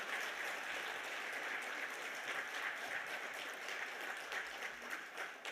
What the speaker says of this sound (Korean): 박수를 드리겠습니다.